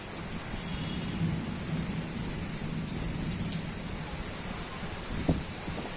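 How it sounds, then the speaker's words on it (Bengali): A Kalbaishakhi thunderstorm in Barasat brings a steady wash of rain beating on surfaces, with low rumbling thunder beneath it and a brief sharper crack near the end. "দেখুন কালবৈশাখীর তাণ্ডব দেখুন।"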